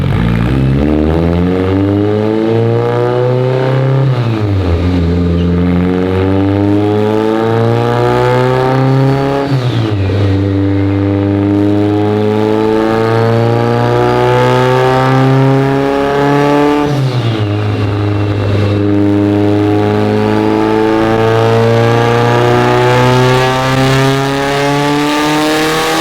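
Mitsubishi Evo 8 engine revving on a dyno, loud and close, with pitch climbing steadily through long pulls, dropping sharply between runs at about 4, 10 and 17 seconds, then climbing again.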